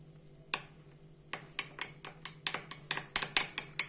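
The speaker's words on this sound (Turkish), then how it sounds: "Şimdi iyice karıştırıyorum." A spoon stirs a mixture in a container, striking the sides in a string of bright clinks. They start sparse, then come quicker and louder toward the end, over a low steady hum.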